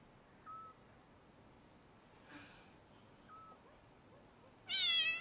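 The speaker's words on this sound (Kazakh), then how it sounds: "сен мысықты қайдан алдың?" A cat gives a few faint, short meows in a quiet room, then a louder, longer meow close to the microphone at the end, with no talk.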